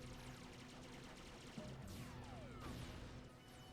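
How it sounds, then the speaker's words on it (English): Spaceships collide in a Gundam anime battle, a dense, noisy barrage of crashes and impacts with sweeping whooshes over a constant rumble, heard faintly without talking. "Wow, ships just crashing into each other"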